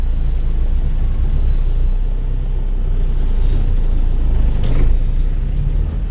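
Steady road traffic rumbles along Quezon Avenue in Iligan City, a continuous low drone of passing cars and heavier vehicles with a brief swell near the end.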